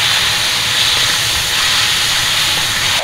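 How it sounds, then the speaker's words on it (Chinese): Duck meat dropped into a hot oiled wok, giving a loud, close, continuous sizzling hiss that holds evenly for about three seconds with no speech. "鸭肉进锅"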